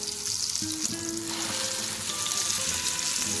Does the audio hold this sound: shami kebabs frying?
yes